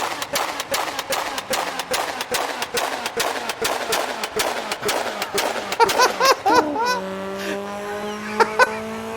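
Mitsubishi Lancer Evo in Assetto Corsa revving hard in second gear on a highway mod. A rapid, rhythmic train of sharp engine pulses gives way to a rising, whining rev with a few crackling pops near the end.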